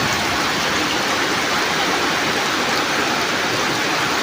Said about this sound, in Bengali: সকাল থেকে যে নামছে এখনো কমতি নাই বৃষ্টির।